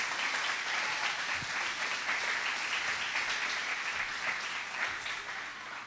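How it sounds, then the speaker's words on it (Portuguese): A church congregation breaks into sustained applause and cheering, a dense, steady wash of clapping that holds for several seconds before tapering slightly at the end. "Pode aplaudir Jesus, porque Ele é bom."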